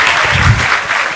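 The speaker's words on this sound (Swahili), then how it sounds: "Makofi kwake jamani." Applause for a graduate at the Gretsa University 16th graduation ceremony, a steady, dense wash of clapping from a large crowd that runs throughout at even loudness.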